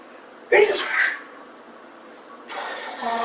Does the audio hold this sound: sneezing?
yes